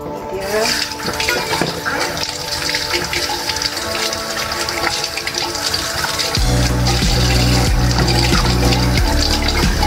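Tap water running while eggplants are washed, a continuous splashing rush with scattered knocks, growing fuller and louder partway through as the flow strengthens.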